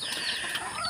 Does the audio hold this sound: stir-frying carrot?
no